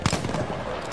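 A single sharp shot from a Gewehr M95/30 sniper rifle in Battlefield 5 cracks loudly at the start, followed by a short rumbling tail of echo and background battle noise.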